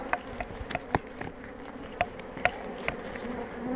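Honeybees buzz around an opened hive during a spring inspection, a steady close drone with sharp individual bees zipping past the microphone every half second or so, with no talk.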